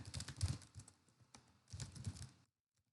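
Rapid bursts of typing on a computer keyboard during Python coding, close and clear, in two busy flurries with a short pause between them, then silence at the end.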